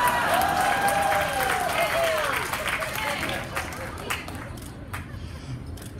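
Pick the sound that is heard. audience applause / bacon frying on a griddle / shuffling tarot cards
audience applause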